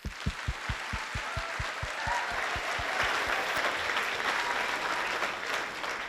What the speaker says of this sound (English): we're going to do some practice clapping